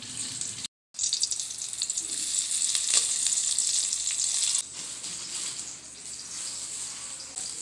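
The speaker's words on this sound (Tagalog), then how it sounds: "Apat na hotdog lang itong ipiprito ko kasi apat lang kami." Four hotdogs fry in a pan with a steady, close crackling sizzle, briefly cut off near the start and then continuing evenly throughout, no voices.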